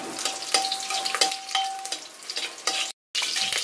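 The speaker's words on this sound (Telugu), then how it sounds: "ఎల్లుల్లిపాయలు వేసుకుని ఎల్లుల్లిపాయలు కొంచెం ఒక 2 సెకండ్లు వేగనివ్వాలి" Garlic fries in hot oil in a pan for a bottle gourd and tomato curry, giving a loud, close, continuous sizzle with repeated scraping strokes of a stirring spoon and a brief gap near the end.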